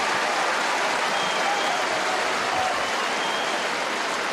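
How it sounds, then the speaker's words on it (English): A tennis crowd at the 2012 Melbourne Australian Open match between Hewitt and Raonic applauds in a dense, sustained wash of clapping that holds steady from start to finish. "the crowd applauding him too"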